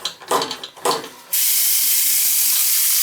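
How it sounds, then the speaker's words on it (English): Tap water rushes steadily into a sink and drains away, a loud, continuous hiss of flow that starts abruptly after a short stretch of nearby talking. "Yeah, I'm putting water in there and then it drains."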